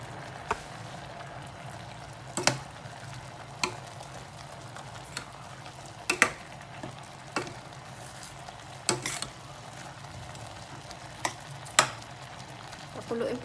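Pot of jackfruit with anchovies in coconut milk simmering on the stove, a steady low bubbling hiss broken by scattered sharp clinks and stirring knocks from a utensil against the pot.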